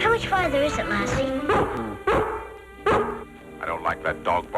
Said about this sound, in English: I don't like that dog barking so close.